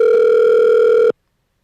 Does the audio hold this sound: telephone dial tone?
yes